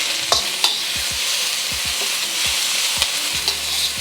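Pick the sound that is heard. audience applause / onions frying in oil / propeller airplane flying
onions frying in oil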